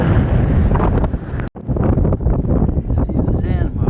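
Strong gusts of wind at a sandy beach buffet the microphone in a loud, continuous roar with rushing texture, briefly cutting out for a split second before resuming; surf may be faintly mixed in.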